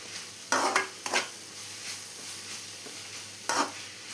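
Onions with curry leaves and chopped green chillies are stirred in a hot pan for a soya roast, oil sizzling steadily under three distinct scraping stirs near the start and end.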